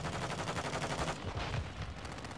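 Rapid automatic gunfire in Call of Duty: Modern Warfare 2 multiplayer, a dense continuous rattle of shots close and loud throughout, easing slightly toward the end.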